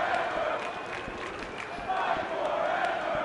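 A live pro wrestling event, Danny Diamond versus Alex Frost, with the arena crowd keeping up a constant roar of cheering and shouting, scattered claps, and commentators talking over the din.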